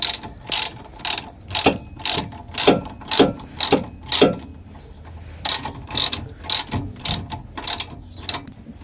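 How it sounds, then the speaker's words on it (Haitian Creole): A ratchet wrench tightens a bolt, clicking in a brisk, regular rhythm of close, sharp ratcheting strokes, pausing briefly midway before a second run of clicks. "je vais serrer le boulon là"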